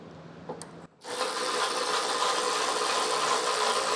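A 17mm socket snugs the bolts of a Curt Class III trailer hitch on a 2025 Subaru Outback. A few light knocks come first, then a loud, continuous whirring grind runs steadily for about three seconds.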